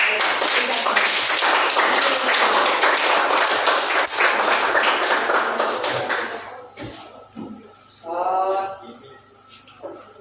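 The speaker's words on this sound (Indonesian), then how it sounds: "Ya, tepuk tangan" A group of schoolchildren claps steadily for several seconds in a classroom after a presentation, then the applause thins out and fades, leaving a voice speaking quietly afterward.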